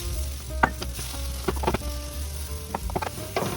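Bananas frying in butter in a pan make a soft sizzle broken by clusters of sharp utensil clicks and scrapes as the pieces are moved, with no talking.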